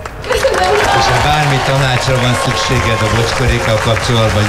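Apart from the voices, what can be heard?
audience applause for Enikő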